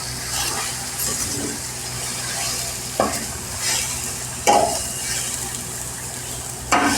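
A spoon stirs chicken curry with ginger garlic paste and onions in a hot pan, the food sizzling steadily while repeated scrapes and clanks against the metal come through up close.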